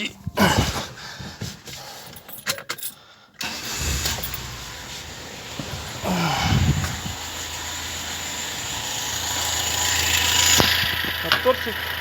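A Lada 21083 car engine, freshly rebuilt cylinder head, cranks and catches after a brief silence, then settles into a steady idle hum that swells slightly toward the end.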